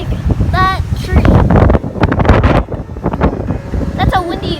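Strong outdoor wind buffeting the microphone in loud continuous gusts, with a person talking over the roar.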